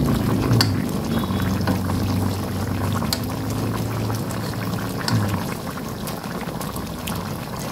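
Coconut milk for tuna paksiw with vinegar and kamias simmers in a pot, a steady close bubbling and hissing wash that stays fairly loud throughout with no talk.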